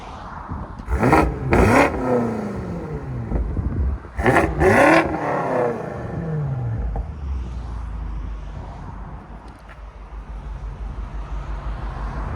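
A 900hp BMW X6 M Competition with downpipes, resonators and exhaust valves open revs hard twice in quick pairs, each sharp roar climbing and falling, then settles into a loud, rumbling idle close by.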